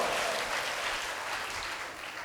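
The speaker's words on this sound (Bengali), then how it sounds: "ওর জন্য জোরে একটা করতালি দাও।" A seated audience at a talk by Barrister Al Mamun Rasel applauds a student, a dense and steady roar of many hands clapping together, close and loud throughout.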